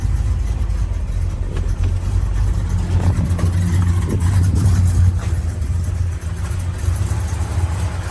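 A 1968 Oldsmobile 442 with a period-correct, non-numbers-matching V8 runs steadily up close, a deep, even rumble that swells slightly in the middle as if given a little throttle, with no talking.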